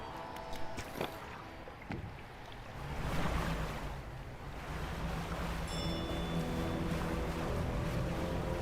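A boat sails across open water in the fishing game Dredge, with a steady low engine rumble and lapping waves throughout, rising slightly after a few seconds, plus brief higher tones near the end.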